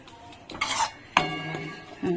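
Flour being mixed into chhana for nolen gur sandesh, a few scraping strokes of a spoon against a bowl with light clinks, close and moderately loud, in separate bursts.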